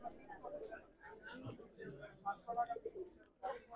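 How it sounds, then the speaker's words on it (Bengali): Pigeons coo softly at the crowded Sarulia pigeon market in Bangladesh, the low calls scattered beneath people talking nearby. "খুবই চমৎকার একজোড়া কবুতর"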